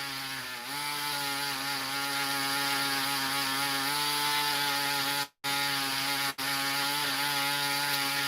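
A Dremel rotary tool polishes a preformed stone cabochon with a steady, high-pitched whine. The loud whine runs close by and cuts out sharply twice near the end.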